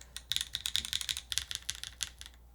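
Rapid mechanical keystrokes on a Paper 65 bottom-mount keyboard, a fast uneven burst of crisp clacks heard up close with no talking, fading out at the end.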